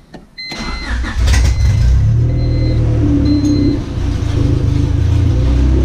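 A car engine with no neutral safety switch cranks briefly, catches and settles into a loud, steady close-up idle with a slight rise in revs midway.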